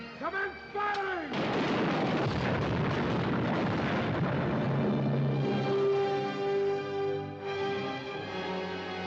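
Cannon fire from a pirate ship in a swashbuckler film: repeated heavy booms and crackling blasts rolling into a dense, continuous barrage, with a brief voice at the start and a dramatic music score swelling underneath.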